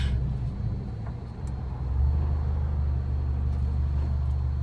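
Heavy trucks rolling past on a road, a steady loud low rumble that swells as they draw near and continues without any talk.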